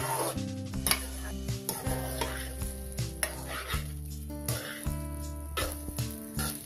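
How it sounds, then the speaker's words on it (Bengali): Vegetable fried rice is stir-fried in a pan over a constant sizzle, with repeated sharp scrapes and clanks of a spatula against the metal in an uneven rhythm, up close and with no talking. "আমি এই ফ্রাইড রাইসগুলো 2 মিনিটের মতো ভেজে নিয়েছি"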